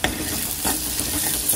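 Onions sizzling in a hot pan while being stirred, a constant close frying hiss with soft scraping strokes of the spoon, no voices.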